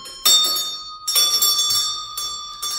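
A bell rung with a bell pull gives a bright, ringing tone in several separate bursts, each struck sharply and left to shimmer and decay. The rings are close and clear, with no voices over them.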